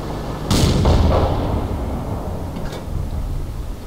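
A tank cannon firing in World of Tanks, one heavy booming shot with a long rumbling tail that fades into steady background noise.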